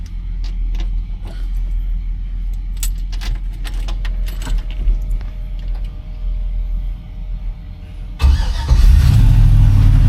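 A 1951 car fitted with an LS engine: keys jangle and clicks sound over a low rumble for several seconds before the engine catches near the end and settles into a loud, close running roar.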